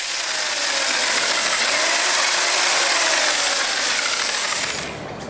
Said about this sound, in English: I think I know where I want to start, with this cement mixer